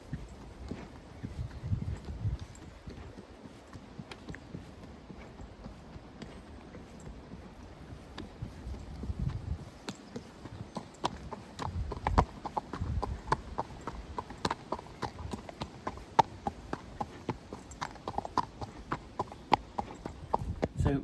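Hooves of a ridden horse clip-clop in a steady rhythm at the Bramham Horse Trials, a moderately close and continuous walking beat over faint background noise, with no talk.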